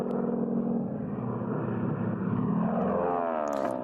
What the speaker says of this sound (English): There, in the endless stretch of blue, a plane soared by.